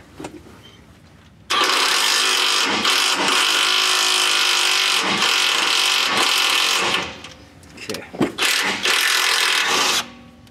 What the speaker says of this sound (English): I come in with an impact, get it on there nice and straight, and it'll thread right in